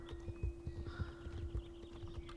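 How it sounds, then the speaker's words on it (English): Horse in the video game Star Stable Online, with a quick series of soft hoof clip-clops and a brief whinny over a steady game tone and faint music, no speech. "Oh, that must be her horse there."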